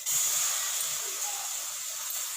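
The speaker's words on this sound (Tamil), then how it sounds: "அதை நம்ம வடைச்சட்டியில் போட்டு உருக்கி நெய் எடுத்துடலாங்க" Butter melting in a kadai over a stove for ghee gives a steady, close, even sizzling hiss that holds at one level throughout, with no voices.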